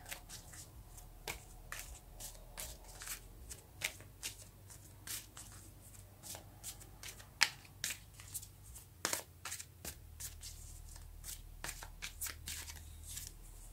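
Tarot cards are shuffled by hand in a quiet room, a series of soft, close riffles and flicks in irregular bursts with no talking.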